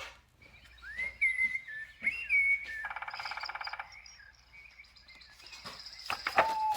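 Recorded city bird calls play from a sound book in a quiet room: thin whistles and chirps, a rapid trilling burst, then more whistled notes, with faint clicks between them.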